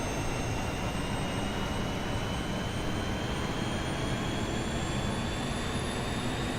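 The jet engines of an Airbus A320 in Microsoft Flight Simulator roar in a steady, even drone with high whining tones, heard alone at constant loudness.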